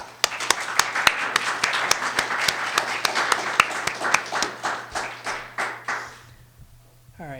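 An audience gives a round of applause for speakers at an anthropology talk, dense clapping with sharp individual claps standing out, building and then thinning out toward silence.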